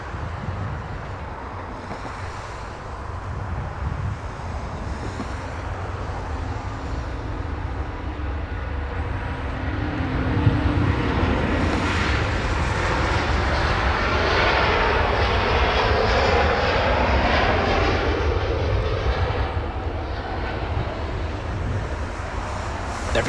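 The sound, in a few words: Virgin Atlantic airliner departing Los Angeles International Airport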